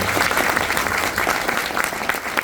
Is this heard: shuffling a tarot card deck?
no